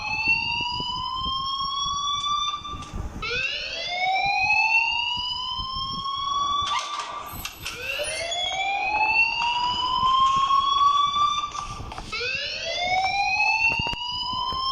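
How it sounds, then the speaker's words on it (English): An electronic alarm rings in the video game Life is Strange: a loud, steady wail of repeating rising sweeps, each lasting about four seconds, with nothing else heard. "please turn off that alarm since that's your job"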